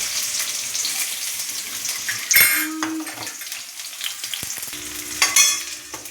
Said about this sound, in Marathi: थोडंसंच तेल टाकलेलं आहे मी। सर्वप्रथम आपण कांदा भाजून घेऊया।